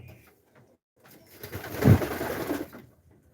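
Racer pigeons coo in a short, fairly close burst that swells in the middle, with faint rustling before and after.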